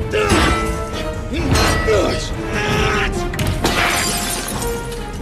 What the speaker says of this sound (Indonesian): Dan Jack berhasil memecahkan kaca pelindung robot.